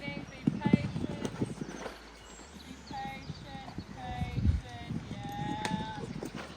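A horse's hooves clip-clop during show jumping at a German amateur tour event, a close, uneven run of hoof beats on an arena surface with a person talking over them.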